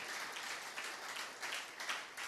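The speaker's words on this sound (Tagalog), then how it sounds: "Yung malakas na palakpak nga po." A church congregation applauding during worship, heard as dense, steady clapping that sounds fairly distant and soft, with no talking over it.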